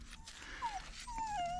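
A dog whimpers with a few thin, high, falling whines, the last one drawn out, heard fairly close over a quiet room background.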